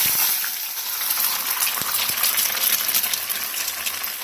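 Beaten eggs pour into a hot oiled pan for egg fried rice, giving a loud, steady hissing sizzle that stays close and continuous throughout, with a couple of faint clinks underneath.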